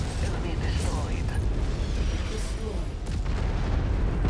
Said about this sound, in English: Oh, they got artillery.